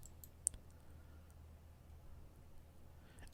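A single sharp mouse click sounds once near the start, close and crisp, while a computer selects a vehicle in software; a faint low hum fills the rest of the quiet room.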